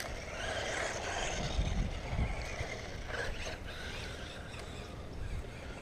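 A GPtoys S916 two-wheel-drive RC car pushes through tall grass, its small electric motor whining faintly under swishing, rustling blades, steady and fairly quiet throughout.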